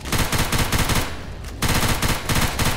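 Automatic weapon fire in the video game Left 4 Dead 2: rapid, loud bursts of machine-gun shots, a brief pause, then another sustained volley, with no talking.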